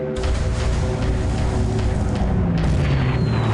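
A torpedo and bomb strike against a warship in a naval strategy video game, a continuous loud, deep rumbling explosion roar that fills the whole moment, close and heavy, with no talk over it.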